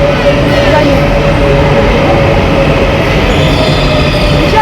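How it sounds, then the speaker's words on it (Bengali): A metro train runs into a station with a loud, steady rumble and a sustained wheel squeal. The noise stays constant across the whole stretch, and a voice is faintly audible underneath. "চলে এলাম মানে আমরা নয় ট্রেন চলে এলো"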